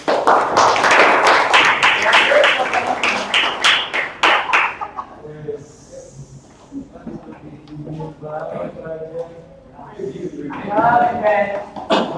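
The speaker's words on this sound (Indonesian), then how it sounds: "beri tepuk tangan." A classroom audience claps loudly and together for about four seconds. The applause then stops and a person starts talking.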